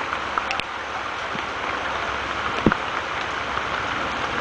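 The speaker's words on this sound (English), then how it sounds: "It's hailing quarters out." Rain and hail batter down around a kayak as a continuous broadband hiss, with scattered sharper impacts and one louder knock near the middle.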